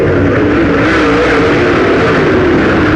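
A pack of race cars roars up to speed on a green-flag restart at Moler Raceway Park, a dense, loud, continuous engine blare with no break across the whole span.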